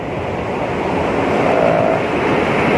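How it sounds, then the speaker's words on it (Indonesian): Steady rushing water at the Cikundul river dam in a village in Cikalongkulon, Cianjur, a continuous broadband wash that stays close and even throughout, with no voices over it. "Ini suara air yang bikin tenang."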